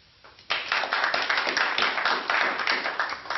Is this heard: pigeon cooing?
no